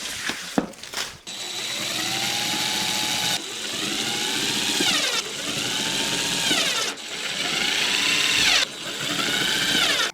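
A power drill drives screws slowly into a wooden dog feeder, the motor whining up and down in several repeated runs of a few seconds each, close and fairly loud.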